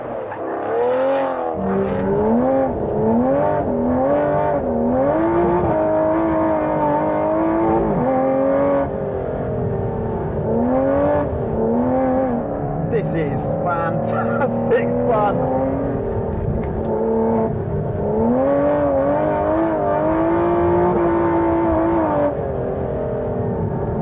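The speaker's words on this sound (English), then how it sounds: "Proper thug of a pretty organic, very fast track car that makes one of the best noises I've heard." An Aston Martin Vantage track car engine revs loudly and rises through the gears, with throaty swells and drops as it accelerates, a voice talking over it.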